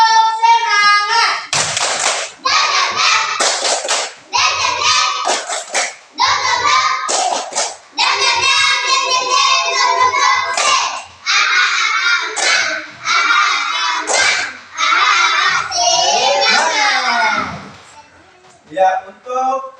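Children chanting a rhythmic classroom clapping cheer ("tepuk semangat") together, clapping their hands in sharp, patterned bursts, loud and close, continuing in several rounds.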